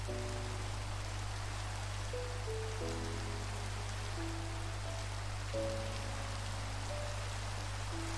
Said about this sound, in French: Par contre c'est embêtant qu'il pleuve.